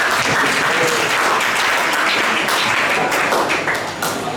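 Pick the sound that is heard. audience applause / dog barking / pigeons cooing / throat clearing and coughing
audience applause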